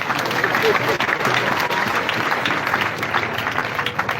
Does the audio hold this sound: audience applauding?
yes